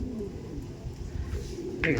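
Low cooing from Andhra pigeons, including a female, rolls on close by, with a short brighter sound near the end.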